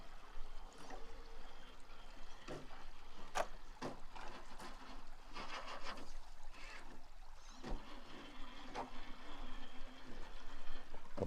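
River water splashing and trickling as small RC crawlers cross a rough stretch of stream under a bridge, with intermittent knocks and sloshes close by and no voices.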